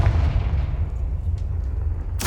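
A Confringo explosive spell fired in the game Hogwarts Legacy: a steady low rumble of combat runs throughout, with a sudden sharp, bright blast erupting right at the end.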